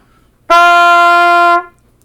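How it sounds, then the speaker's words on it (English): A single bright trumpet note pitched too high, held steady for about a second, loud and clear with a clean start and fade. "If you're too high, it could sound like this."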